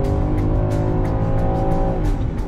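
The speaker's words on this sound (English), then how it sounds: "I'm gonna brake torque it a little" Land Rover Defender 130 held on the brake with revs building before launching while towing a 7,300 lb trailer: a loud, sustained engine roar, steady and close throughout, with no voices.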